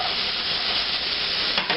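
Green chile peppers sauteing in a pan, a steady, loud sizzling hiss that stays constant throughout with a slight crackle near the end.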